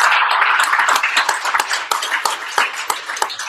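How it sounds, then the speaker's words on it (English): Applause from a meetup audience, a dense patter of claps with sharp individual slaps standing out, steady and fairly loud before thinning slightly toward the end. "I'm going to see if we get a nice loud round of applause"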